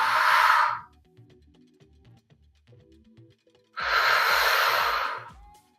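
Deep yoga breaths during a power and stretch session: a long, loud exhale, a quiet pause of several seconds, then a second long breathy exhale, close to the microphone over faint soft background music.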